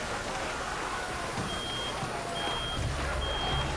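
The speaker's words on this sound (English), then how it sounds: "What's that sound? Some kind of alarm?" An alarm blares in the Reverse 1999 video game, a steady electronic beeping tone repeating over a rumbling, shaking machine hum, continuous and moderately loud throughout.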